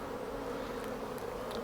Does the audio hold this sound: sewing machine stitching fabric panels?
no